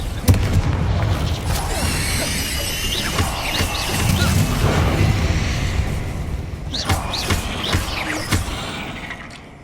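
Repeated Confringo spell explosions in Hogwarts Legacy crash and boom in a chaotic battle, with loud close blasts, squealing crackles and thuds layered over continuous combat noise.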